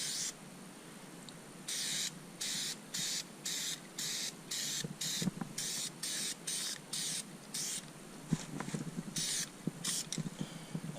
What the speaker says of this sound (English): Just going to spray a real light coat of this primer.